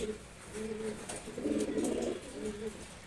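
Pigeons coo from their cages, a few soft, low, throaty calls that repeat in short phrases, fairly close and moderately quiet over faint background noise.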